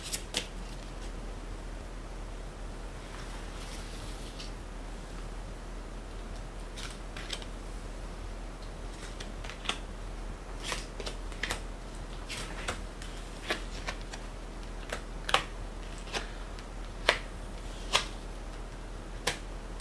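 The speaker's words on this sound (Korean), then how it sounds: "이런 예언이 언제 나타나게 되는지 카드를 뽑아보도록 하겠습니다." Tarot cards being shuffled and drawn, heard as soft papery rustling with a run of sharp, distinct card snaps and flicks growing more prominent toward the end, close and quiet with no talking.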